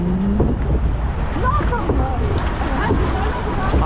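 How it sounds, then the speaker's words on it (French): Cold wind gusts loudly across the microphone on an amusement park water ride, a constant rushing roar mixed with splashing water while people talk and laugh. "Ah le vent il est froid."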